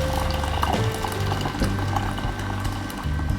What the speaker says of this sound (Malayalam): ഇനി ഇതിലേക്ക് നമുക്ക് നല്ല തിളച്ച വെള്ളം ഒഴിച്ചു കൊടുക്കാം.